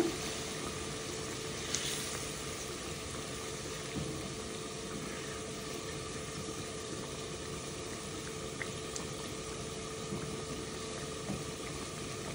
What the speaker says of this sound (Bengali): তো ভিউয়ার্স এখন কই মাছের মধ্যে আমি জল দিলাম